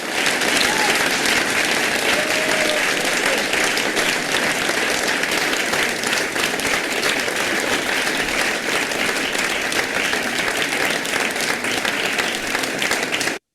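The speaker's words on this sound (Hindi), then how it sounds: "तो ये डिजिटल तालियां थी आपके लिए" Recorded applause played back: a dense, continuous round of many hands clapping, loud and even throughout, cutting off abruptly at the end.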